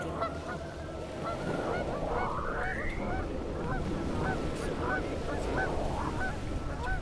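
Geese honk over and over in a noisy flock, their calls overlapping at close range against a steady background of bird chatter, with no talking.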